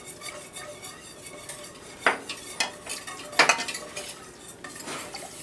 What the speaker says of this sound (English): we're going to put a little in at a time, and you want to whisk it so you don't get any lumps